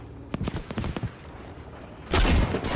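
Gunfire in the video game Battlefield V during a Sabotage mission, with scattered shots and bursts early on and then a loud sustained roar of firing or an explosion toward the end.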